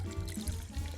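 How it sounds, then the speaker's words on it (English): A Singapore Sling cocktail poured over ice in a glass for a Halloween party drink, a short close, steady liquid pour lasting about a second with no talk. "Then you'll add the ice. There we go. And pour your drink right on top."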